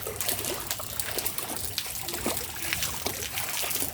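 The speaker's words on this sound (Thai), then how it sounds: "ท่อระบายไม่ทัน ต้องรออีกค่ะมันล้นท่อ" Rainwater from a flooded side street trickles and dribbles out of an overflowing drain pipe, a soft, continuous splashing that sounds close and fairly quiet, with no one talking.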